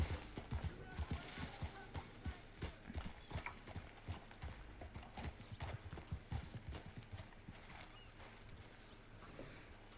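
A horse in the Red Dead Redemption western game clip-clops along with steady, rhythmic hoofbeats, close and fairly quiet, with a brief whinny mixed in.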